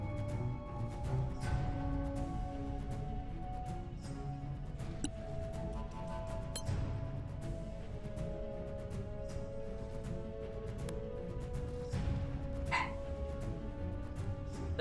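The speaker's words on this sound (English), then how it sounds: "Sounds like the dog needs attention." A dog barks and yips in short, scattered bursts over a dense background of music and ambience in the fantasy role-playing game Solasta: Crown of the Magister.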